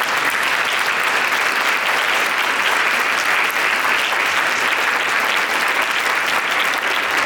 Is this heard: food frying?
no